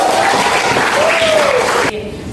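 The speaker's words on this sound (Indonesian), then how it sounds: "beri tepuk tangan untuk Haikal." Steady applause from a classroom fills the room for about two seconds, then drops away abruptly to quieter background noise.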